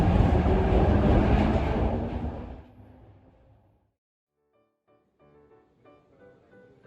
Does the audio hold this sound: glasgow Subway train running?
yes